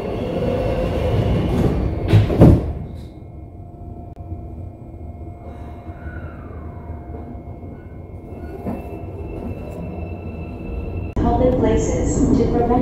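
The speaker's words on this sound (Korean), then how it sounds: "열차가 곧 출발합니다. 출입문 닫겠습니다." Subway train in Korea pulling away after its doors shut, a steady low rumble of rolling wagons with a brief clatter near the start and a rise in noise toward the end, with voices and an announcement over it.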